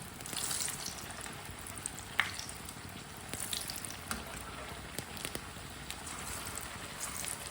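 Flatbread fries on a pan over a stove for a Punjabi winter breakfast, giving a soft, continuous sizzle close by with faint scattered crackles and light clicks throughout.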